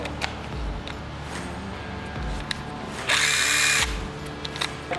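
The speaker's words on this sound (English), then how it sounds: "How about a long 3/8" Light clicks and handling noises, then a brief loud whir of an SP Tools ConX Hybrid long 3/8-inch straight drill spinning for under a second before stopping.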